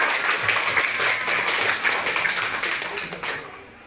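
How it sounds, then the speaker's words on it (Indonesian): A classroom of students in an Indonesian-language lesson applauds a student group, a dense, steady patter of many hands clapping that carries close and loud for nearly four seconds before easing off. "aplaus untuk kelompok"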